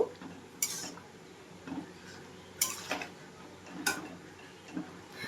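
Spoon stirring a curry of bottle-gourd greens and prawns in a pot, a few light metallic taps and scrapes spaced about a second apart over a faint background hum, quiet and close.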